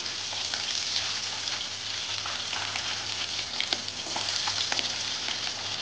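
Pieces of hilsa fish fry in hot oil in a pan, giving a steady, dense crackling sizzle with scattered sharp pops throughout. The sound is close and even, with no voices.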